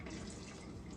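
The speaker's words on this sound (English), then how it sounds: "now we're gonna put some more water in it" Water runs into a pot of homemade chicken soup in a short, steady, fairly quiet splashing stream, with no voices.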